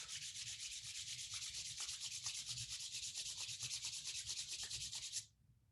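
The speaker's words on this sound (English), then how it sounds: "Rub your palms" Palms rubbed briskly together during a yoga session, a steady close, loud swishing friction that runs without pause for about five seconds and then stops abruptly.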